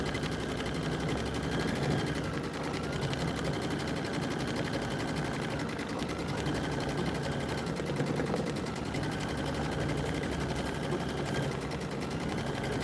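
A Brother embroidery machine stitches a built-in quilting design, giving a steady, dense mechanical whirring chatter throughout, close and continuous.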